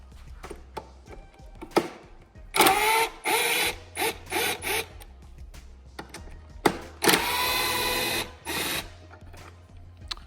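A power driver whirs in short bursts as Torx 30 screws are backed out of a Canyon body panel, several brief high-pitched runs separated by pauses and small clicks, close up.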